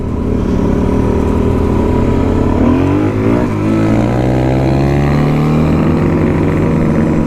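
A motorcycle engine, ridden near the Wynoochee Dam, screaming at high revs close to the microphone, with a steady droning roar and wavering pitch swings as it bounces against the rev limiter, masked somewhat by wind.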